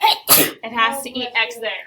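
A sharp sneeze bursts out in a classroom during a math lesson, loud and close, followed at once by a teacher's continued speech.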